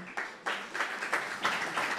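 An audience at a civic talk on women's engagement claps warmly for a speaker, a dense wash of applause swelling in bursts over two seconds, moderately loud and slightly distant.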